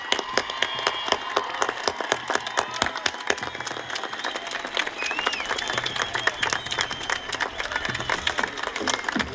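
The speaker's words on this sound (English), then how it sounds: "if you would please join me in a round of applause for our 2019 graduates" A 2019 high school graduation audience gives the graduates a round of applause: sustained, dense clapping with sharp individual claps standing out throughout, fairly distant and even, with faint crowd murmur underneath.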